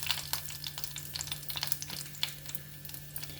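Urad dal and chana dal frying in hot oil for a tempering, with soft crackles and light stirring scrapes close by, alone and fairly quiet against a steady low hum.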